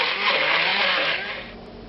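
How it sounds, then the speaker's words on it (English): A stick blender whirs steadily through mozzarella and cream for a caprese salad, a close, loud continuous motor buzz that eases slightly in pitch near the end. "And now you hit it with a stick blender."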